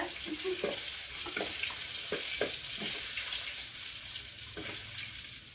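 Fish frying in a home kitchen in a pan: a steady, even crackle of hot oil at close range with occasional clinks and scrapes from stirring, and no talking.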